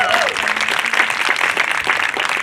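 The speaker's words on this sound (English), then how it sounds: "Let's give them a round of applause for our Mental Health Career Pathways Program." A crowd at a Mental Health Awareness Month event applauds the career pathways program fellows, with sustained, lively clapping from many hands and a brief voice and tone at the very start.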